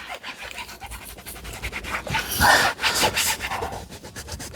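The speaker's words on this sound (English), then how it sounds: "with the help of these little ridges in this thing, in this towel, it's going to give us a little bit more scrubbing action" A ridged towel scrubs dirty van upholstery in quick back-and-forth rubbing strokes, close and uneven, swelling louder in the middle, with no speech.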